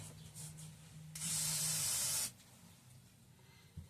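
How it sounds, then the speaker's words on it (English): Spray cleaner blasted onto Walbro impulse fuel pump parts for a Tecumseh HH120 engine, a single loud, steady hiss lasting about a second, close to the mic, with quiet handling sounds before and after. "I think I need to spray that off one more time."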